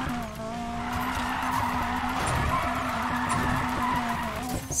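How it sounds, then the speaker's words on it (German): Car drifting through a corner in Need for Speed Payback, with a sustained tire squeal and skid over a droning engine, loud and continuous for several seconds. "Die erste Kurve komplett verdriftet."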